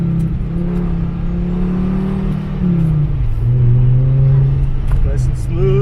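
A Volvo S60R on winter tires drives an autocross course; the engine drones and shifts in pitch as it accelerates and lifts, loud from inside the cabin with a voice speaking over it.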